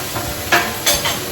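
Vegetables stir-frying in a pan: steady sizzling with a few sharp scrapes and clatters of a utensil stirring against the pan, close and fairly loud, with no talk.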